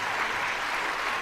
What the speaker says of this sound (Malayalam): പാടിയത് ഇഷ്ടമായവർ മാത്രം ഒന്ന് കൈയടിക്കും.